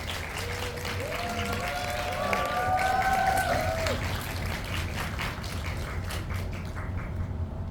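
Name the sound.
audience applause as guests enter a film Q&A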